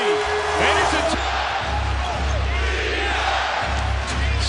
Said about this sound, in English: Crowd rising.